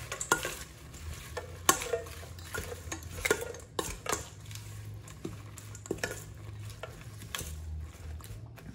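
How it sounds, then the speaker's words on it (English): Spinach salad with dressing and bacon bits being tossed in a bowl, giving close, irregular clinks and soft rustling scrapes of utensils against the dish, with no talking. "We're going to toss this around."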